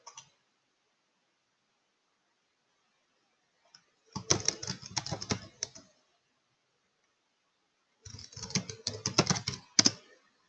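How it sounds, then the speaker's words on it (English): Typing on a computer keyboard during a live trading session, two separate quick bursts of close, crisp key clicks with quiet pauses between them. "That's a lot of typing to do for a single trade"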